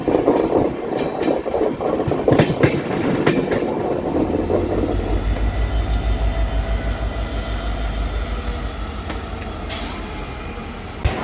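The Lichchavi Express (14005) running on the Sitamarhi route: close, loud wheel rumble and clatter from inside the train, with a low steady drone building midway and a thin squeal or whistle near the end.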